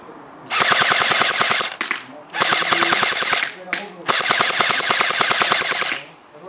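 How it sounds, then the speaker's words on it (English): Airsoft AK rifle firing full auto in three long bursts, a rapid mechanical rattle of shots, loud and close, with short pauses between strings. "It can shoot full auto."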